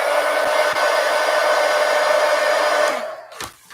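A hair dryer blows steadily and loud at close range while drying paint on an art scroll, with a couple of faint knocks, then cuts off near the end leaving a brief quiet tail.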